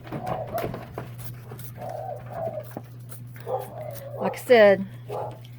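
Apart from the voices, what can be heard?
dogs barking at dinner time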